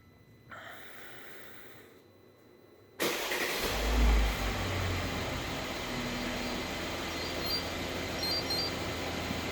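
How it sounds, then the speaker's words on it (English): After a faint whirring and a short pause, a 2016 Mercedes GL450 engine, triggered by remote start, abruptly starts and settles into a steady, fairly quiet idle. "and then the car will start"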